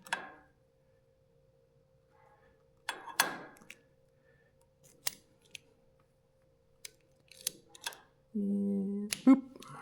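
Wire cutters snip off excess wire on an S&S sand car, a handful of sharp, isolated clicks spaced out over quiet, followed by a brief tonal buzz near the end.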